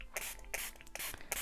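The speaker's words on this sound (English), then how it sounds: "I'm going to spray this" A spray bottle of alcohol ink, blended from latte and ginger shades with a little alcohol, spritzes onto a crafting board. Several short, crisp hissing bursts come in quick succession, close and fairly loud.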